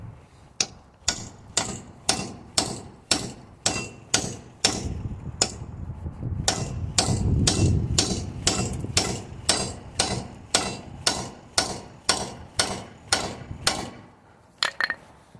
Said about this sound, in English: we've used this locking wheel nut remover, or damaged wheel nut remover